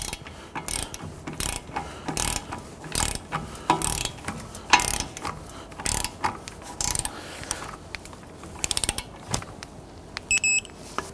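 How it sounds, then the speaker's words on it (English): A ratchet torques the front strut bolts on a 1992-1996 Toyota Camry, a long run of rapid, sharp, close clicking strokes in uneven bursts, loud and alone. "I'm going to go ahead and torque down our strut bolts to 156 foot-pounds"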